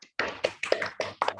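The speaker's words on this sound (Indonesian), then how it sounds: "Tepuk tangan untuk kita masing-masing" A small group at a teachers' training session claps in four or five short, rhythmic bursts, close and fairly loud, with brief gaps between them and no talking.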